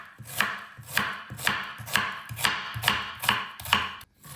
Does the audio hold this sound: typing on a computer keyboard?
no